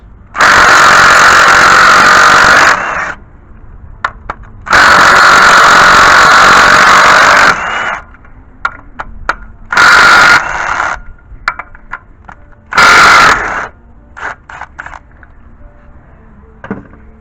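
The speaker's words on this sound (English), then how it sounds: "let's go and remove these 16 millimeter bolts" Pneumatic or powered ratchet removing 16 mm valve cover bolts on a 2007-2012 Nissan Altima, loud whirring bursts of a few seconds each, separated by quieter spells of clicks and small metallic clinks.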